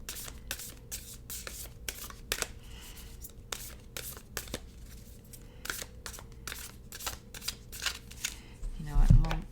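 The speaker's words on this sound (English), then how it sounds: "But we want to give them a good shuffle, right?" A new, fairly large tarot deck gets shuffled by hand, producing quick riffling bursts and card slaps in irregular clusters, near and crisp, with soft handling noise between.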